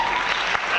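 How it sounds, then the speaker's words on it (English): Lecture-hall audience applause before a speech by President Carter at RIT, a steady dense wash of many hands clapping close and loud throughout the short moment. "Save that applause for later"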